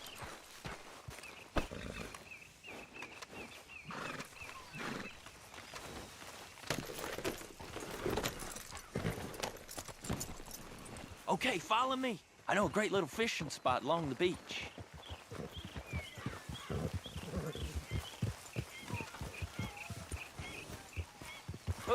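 Horse hooves clip-clop at a steady walking rhythm in the Western video game Red Dead Redemption 2, with tack jingling alongside and someone talking over the riding for much of it.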